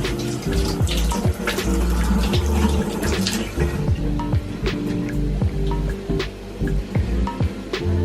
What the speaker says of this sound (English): the garlic is nicely starting with the water just bubbling away or heating up